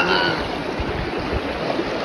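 Steady broadband rush of stream water flowing at a village fishing spot, continuous and fairly close, with soft low splashes and burbles throughout.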